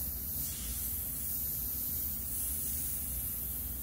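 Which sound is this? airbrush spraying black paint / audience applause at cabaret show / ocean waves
airbrush spraying black paint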